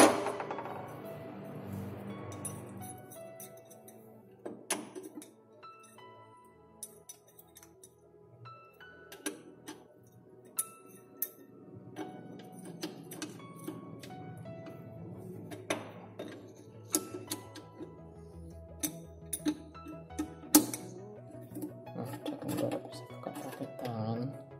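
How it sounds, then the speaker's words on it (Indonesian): A leaking water tap's lock nut is worked loose with an adjustable wrench, giving scattered metallic clicks, taps and clinks at a moderate, uneven pace, with soft background noise throughout. "Ini saya buka pakai kunci Inggris saja."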